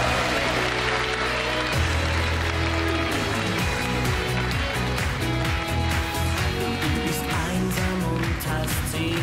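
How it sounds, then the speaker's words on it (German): Applause from a studio audience at a German Schlager music show, steady dense clapping filling the space without a break, fairly loud and continuous. "Riesen Applaus für unseren Sommerhit König 2018"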